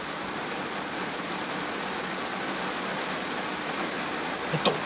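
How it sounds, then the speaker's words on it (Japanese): Heavy rain beats on a car during a downpour in Shizuoka, making a dense, continuous hiss that stays at an even level. A few faint knocks come near the end, and no one speaks. "車に雨の音が 打ちつけております。"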